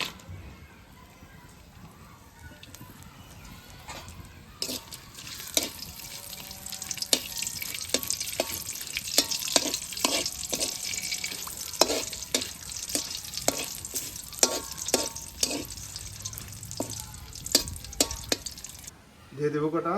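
Bay leaves, dried chillies, cinnamon and cardamom fry in a pot for a mutton dish and are stirred. A soft sizzle runs under repeated scraping and clinking of a spoon against the metal pot.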